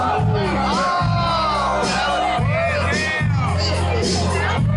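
A crowd cheers, whoops and yells at a stage performance, loud and continuous, with shouting voices rising over a steady rumble of noise.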